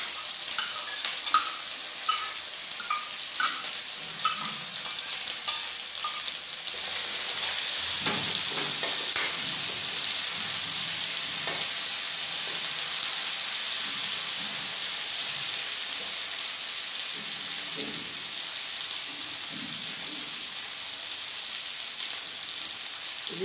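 White mustard seeds sizzle in hot oil for a mustard-seed vegetable dish. A loud, continuous hiss and crackle runs throughout, with scattered pops and light utensil sounds and no talking.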